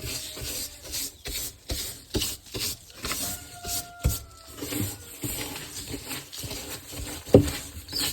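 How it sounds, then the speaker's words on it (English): Old wood shavings are swept out of a chick brooder in repeated rhythmic scraping, rubbing strokes, close and moderately loud, with brief pauses between passes. "Okay, so I sweep out the rest of the old shavings."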